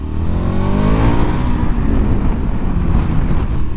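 The V2 engine of a 2021 KTM 1290 Super Adventure S pulls hard out of a corner, a loud, close rising growl with climbing harmonics over steady wind rush, no voices.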